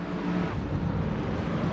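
Forty race cars sit on the grid of a GT4 racing video game, engines droning and revving together in a dense, continuous rumble.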